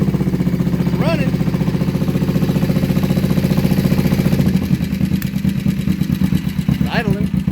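A Kawasaki Vulcan 500 motorcycle engine idles roughly close by while cold, a loud pulsing putter that shifts rhythm partway, with brief voices over it.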